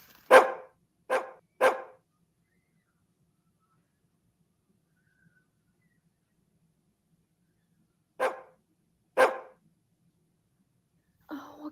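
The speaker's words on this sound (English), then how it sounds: "Oh, I can hear him barking." A dog gives three quick barks, falls silent for several seconds, then barks twice more, each bark sharp and fairly close in a quiet room.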